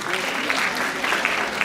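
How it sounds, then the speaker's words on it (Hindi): Audience applause at an annual conclave, a brief dense wash of many hands clapping, loud and continuous with no talk over it. "Gen Alpha के लिए ताली बजाओ please everyone"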